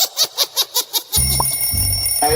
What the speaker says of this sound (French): Le réveil sonne, il est donc temps de se lever.